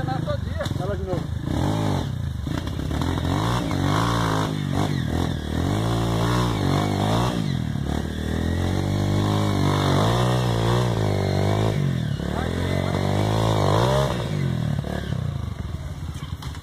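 A trail motorcycle engine revs and labors with rising and falling pitch through repeated bursts during an off-road trail ride, heard under continuous talk from several people nearby.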